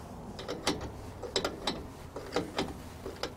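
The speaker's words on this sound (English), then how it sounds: "we'll go ahead and tighten up our mounting bolts" Ratchet tightening the mounting bolts on a rear quad shock kit for a P-Series chassis, heard as a series of short, irregular metallic clicks and bursts of ratcheting, fairly close, with no talk.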